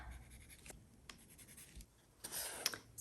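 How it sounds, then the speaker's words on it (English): A pen marks paper for a cut line while making a junk journal, faint scratchy strokes close up, short and quiet against soft room noise. "So I'll just mark where I have to cut it."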